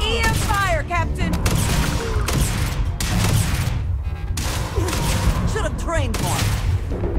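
EM rifle gunfire in the video game Starfield, dense rapid bursts of loud shots with chirping, warbling energy effects, a voice speaking briefly amid the barrage.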